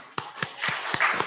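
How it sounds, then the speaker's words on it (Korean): A church congregation gives a short burst of applause during a worship service, a few sharp claps spaced out at first and then building into a denser patter of clapping, close and fairly loud with no talk over it. "하나님께 영광의 박수."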